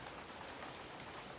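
Steady rain from the outer bands of a hurricane patters on surfaces in a continuous, soft hiss, fairly faint and even, with no voices.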